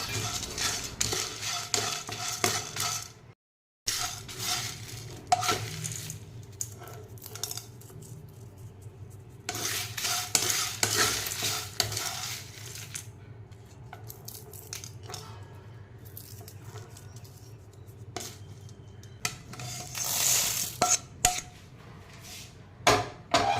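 Dry scraping and stirring in a metal pan as chillies and curry leaves dry roast for idli podi, with a spoon clinking and ingredients rustling and crackling lightly, continuing in bursts with brief pauses.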